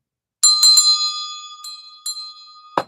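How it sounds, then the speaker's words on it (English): A small hand bell is struck several times in quick succession, each clear metallic ring lingering and decaying, followed by two more spaced strikes and a dull knock at the end. "I'm inspired to ring the bell"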